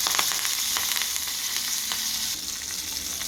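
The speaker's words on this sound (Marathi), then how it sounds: "अशा प्रकारे इकडे मी बनवली आहे फोडणी हे बघा अशा प्रकारे" Phodni tempering with curry leaves and chili pieces for kadhi sizzles steadily in hot oil, a close, even frying hiss with light crackles and stirring scrapes throughout.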